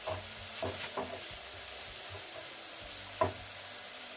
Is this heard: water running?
no